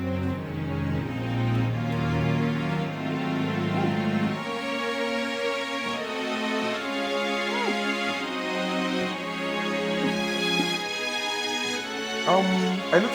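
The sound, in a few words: orchestral strings played from a Logic template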